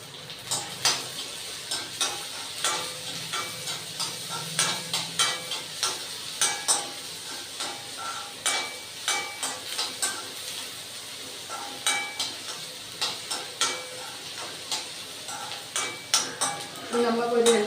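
Sliced onion, garlic and green chili sauté in a pan under a low sizzle. A spoon stirs with a steady run of close, sharp clinks and scrapes for several seconds, and no one speaks.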